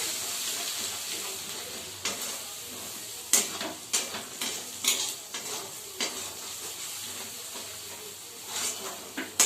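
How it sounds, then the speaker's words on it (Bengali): Onions with a little salt frying in a pan, stirred with a utensil: steady close sizzle with repeated scraping strokes and light metallic clinks against the pan, no voices. "এবার এটা আমি পেঁয়াজের মধ্যে নাড়িয়ে নেব।"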